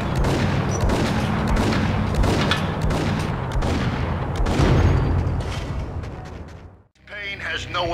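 Dense bursts of gunfire in a Max Payne video game cutscene, rapid overlapping shots and booms close and loud, continuous for several seconds before a sudden cut to quieter sound.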